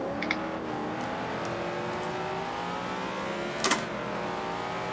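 A 900 hp 2002 Chevrolet Camaro in Forza 5 public circuit racing drones at steady high revs with a whirring, rising engine tone and brief louder bursts, fairly quiet and heard alone.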